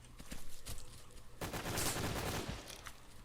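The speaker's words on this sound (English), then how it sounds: "the G36 is a much wider spread, but then it's a much higher rate of fire than the AK" Rapid automatic fire from a G36 rifle in the BRAIN / OUT shooter game, a sustained crackling burst of closely spaced shots with a louder dense stretch in the middle, no talk.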